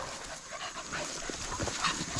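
Beagle hunting dogs crowd in close while being fed outdoors, panting and whimpering with faint yips under steady background noise.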